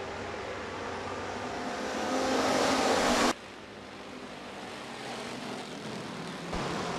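Sportsman class race cars roaring around a dirt speedway, a loud continuous engine drone that swells then cuts abruptly to a lower, steadier roar of cars on track.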